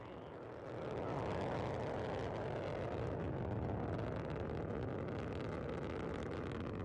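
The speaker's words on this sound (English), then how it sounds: "The Soyuz booster arcing out to the northeast from the Baikonur Cosmodrome" Soyuz booster rocket engines during a Progress cargo launch from the Baikonur Cosmodrome, heard as a dense, steady roar that swells in after a quieter first second and holds a broad rumbling level, somewhat distant and muffled.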